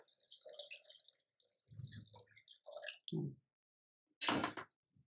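Short wet drips and squishy sounds, then a brief burst of water pouring and splashing into a thick bajji batter.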